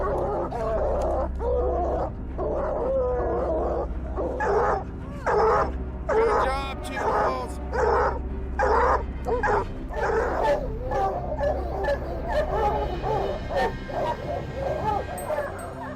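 Hunting dogs bark, yip and whimper at wild boars, with repeated excited barks in quick, uneven bursts that stay close and fairly loud throughout.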